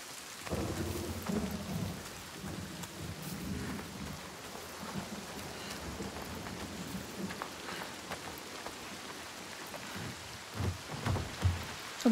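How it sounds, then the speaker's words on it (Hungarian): Rain pouring steadily in the video game Hellblade II, with a deep rolling rumble of thunder early on and dense drops pattering on surfaces throughout, moderately loud and without speech. "Ott bent is esik az eső."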